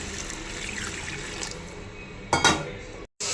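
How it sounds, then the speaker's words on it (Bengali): Water poured into frying spice paste in a pan for a Bengali tel koi fish curry: a steady pan hiss, then a short loud splashing sizzle near the end before a brief drop to silence. "আন্দাজ মতন জল দিয়ে দেবো"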